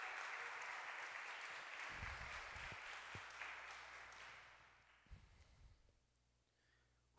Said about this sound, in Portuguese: Você pode aplaudir a Jesus Cristo por isso.